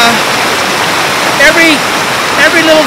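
Fast, violent river water rushes in a steady, loud, broadband roar. Chirping bird calls sound faintly over it near the middle and the end.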